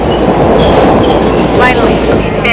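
A Boston Orange Line subway train arriving at an underground station, loud rumbling roar with rattling wheels and a faint squeal, filling the platform.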